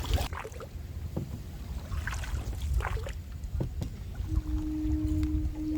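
A boat travels on the Hooghly river, carrying a steady wash of water and motion noise, with a low engine hum settling in toward the end.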